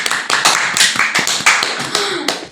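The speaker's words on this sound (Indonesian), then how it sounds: "kita tepuk tangan dulu." A few people clap in a podcast studio, producing a quick, uneven burst of close, loud claps and taps lasting a couple of seconds with no talking over them.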